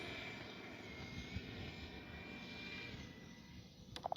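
A Freewing A-4 Skyhawk 80mm EDF radio-controlled jet makes a flying pass with landing gear down, its steady whooshing engine roar faint and distant throughout, with a few small clicks near the end.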